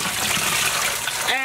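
Water sloshes and splashes steadily as hand-dyed variegated yarn is washed in a tub or pot. The sound is loud and close, with a burst of running water near the end.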